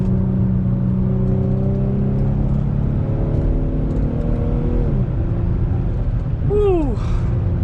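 An Infiniti G35 pulls hard in gear, its engine note rising steadily under a constant road roar, then dropping into a quick shift-like sweep near the end while a driver talks.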